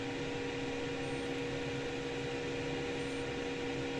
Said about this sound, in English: fan is overpowering with the noise